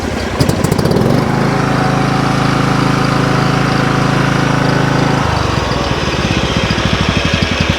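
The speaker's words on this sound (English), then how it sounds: "It's made by Kawasaki. Yeah. It's a real quiet engine." The Kawasaki-built engine of a Kubota BX 12.5 horsepower mid-mount mower runs loud and close, with a fast ticking idle that rises into a steady higher hum for several seconds, then drops back to a rapid chugging idle.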